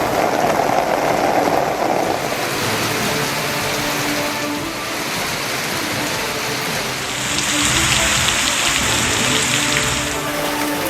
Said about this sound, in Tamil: சென்னை, திருவள்ளூரில் பரவலாக மழை.